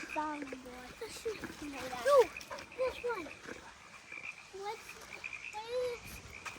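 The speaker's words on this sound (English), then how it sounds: "I'll show you some frogs" Frogs croaking outdoors, a chorus of short rising calls and croaks at moderate distance, with a person talking over them.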